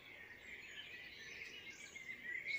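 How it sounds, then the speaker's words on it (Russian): Birds chirping and singing steadily in the distance in Germany, a soft continuous chorus with no voices nearby. "птицы поют. Прям так громко, так классно."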